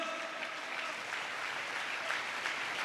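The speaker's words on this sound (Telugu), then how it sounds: "చప్పట్లు కొడుతూ స్తోత్రాలు చెప్దాం." A church congregation claps steadily for the whole moment, a dense, continuous patter of many hands heard from within the crowd, with no other sound standing out.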